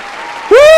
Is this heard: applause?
yes